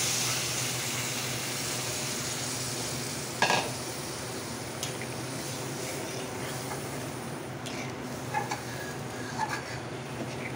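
Water goes into a hot kadai of fried chana dal and potatoes, giving a steady hiss and simmer with a few clinks of a utensil against the pan; nobody speaks.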